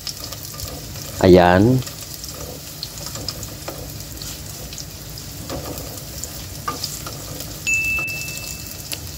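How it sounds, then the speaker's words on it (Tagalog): Ginger, then garlic, sauté in a pan for chicken tinola with a low, steady sizzle and occasional utensil clicks; a short spoken word cuts in early. "Simulan na natin mga katiyoy friend ang ating pagigisa ng ating luya at isunod na rin po natin yung ating bawang."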